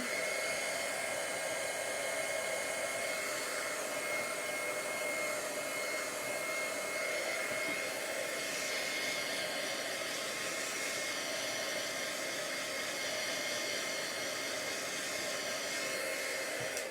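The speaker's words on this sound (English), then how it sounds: "it takes a little bit of finesse with your heat gun" Heat gun blowing steadily while embossing a handmade Christmas card, a constant loud whooshing drone with a faint motor whine, close and unbroken throughout with no talk.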